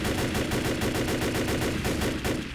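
Rapid, continuous automatic gunfire from the Left 4 Dead video game, a loud, dense stream of evenly spaced shots that runs without pause throughout.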